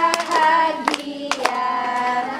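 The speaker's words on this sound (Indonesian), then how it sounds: "Tepuk tangan semuanya." Hand clapping at a child's fifth birthday party, with a few sharp claps standing out over a steady background of singing or tonal music, close and fairly loud.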